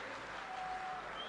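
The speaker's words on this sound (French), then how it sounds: "Applaudissements, s'il vous plaît, beaucoup plus nourris, beaucoup plus fort que ça." Concert audience applause, a steady dense wash of clapping at moderate level with no talk over it.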